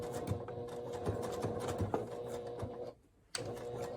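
A sewing machine stitching a port hole pouch, a fast rhythmic close-up chatter that runs steadily, stops briefly, then starts again.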